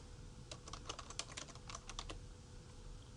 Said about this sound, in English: I'm just going to click here and start typing an email address